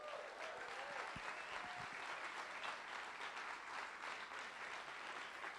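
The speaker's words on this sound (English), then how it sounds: "Let's hear a round of applause for that." A live audience at a community prize award event gives a sustained round of applause, dense steady clapping that holds evenly for several seconds with no talk over it.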